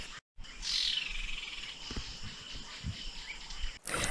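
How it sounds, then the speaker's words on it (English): A flock of crested guinea-fowl calls outdoors in northern Kruger, giving faint chirping and clucking sounds against a steady insect-like background hiss, with a few soft knocks and a short gap near the start. "It hasn't taken long for a flock of crested guinea-fowl to come and welcome us to the area."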